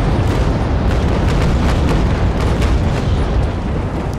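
Cannon fire between sailing warships in Naval Action, one a Trincomalee firing back, heard as a loud, continuous rumble of booms and blasts with no pause across the stretch.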